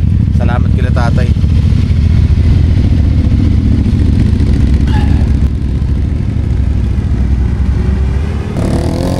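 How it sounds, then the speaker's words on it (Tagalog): Motorcycle engines idle steadily at a cold early-morning mountain stop on Mt. Olis in Benguet, a continuous loud low rumble with some clatter throughout, while voices talk faintly in the background. "Painit muna kami ng aming mga motor."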